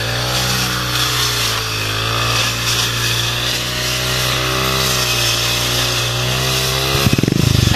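A petrol grass cutter drones steadily and loudly up close as grass is trimmed for an evening end-of-May dance celebration in Infanta, with a short clattering burst near the end.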